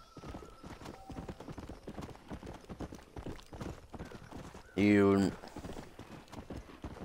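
Horse hooves clip-clop at a walking pace in Red Dead Redemption 2, a steady run of soft, close hoof strikes under ongoing talk, broken briefly by a loud tonal burst near the five-second mark.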